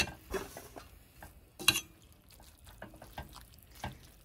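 Laing stirred in coconut milk in a pot, quiet wet scraping and sloshing with a few clinks of the spoon against the pot, faint and without talk.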